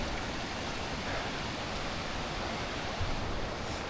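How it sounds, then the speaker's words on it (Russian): Steady broadband rushing of the river in the Partnach Gorge in the Alps, heard from nearby, continuous and even with no voices. "Но река уже не так прям шумит"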